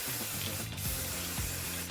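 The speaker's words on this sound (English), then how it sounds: "I like to spray the updo." Hairspray misted over a finished side updo, a steady close hiss that lasts the full two seconds beneath continuous background music.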